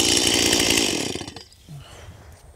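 A petrol chainsaw idles with a loud, dense rattling roar that cuts off partway, leaving near quiet beside a Greenworks 60V battery chainsaw.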